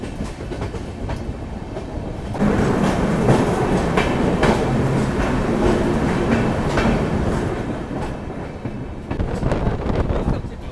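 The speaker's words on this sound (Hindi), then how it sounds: "वो चढ़ाई चढ़ रही है, वो देखो ट्रेन" The Goa Express train climbs a gradient near Dudhsagar waterfall. A steady rumble and rhythmic clickety-clack of wheels on rails grows louder partway through and stays heavy, with some wind buffeting the microphone.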